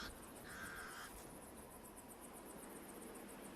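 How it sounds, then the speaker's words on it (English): Pied crows give alarm calls in the open bush near elephants, a short burst of harsh calls early on over faint, steady insect chirring, distant and quiet. "The pied crows sound the alarm again."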